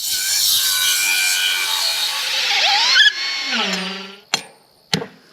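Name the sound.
grinding off a metal gate hinge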